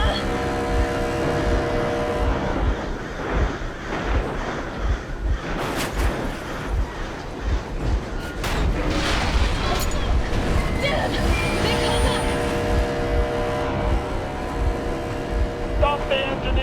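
Steady rumbling vehicle engine in Metro Exodus, droning throughout at a loud, close level beneath clattering impacts and other game sounds.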